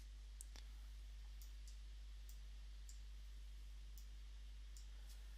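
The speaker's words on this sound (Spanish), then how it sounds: "Nos alejamos y hacemos un clic de deselección." Faint, sparse computer mouse clicks during BIM building modeling software work, a handful of isolated sharp ticks over a quiet steady hum.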